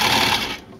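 A brief, close burst of a coverstitch machine sewing binding onto a racerback tank top, its fast mechanical whir winding down and fading out within a second.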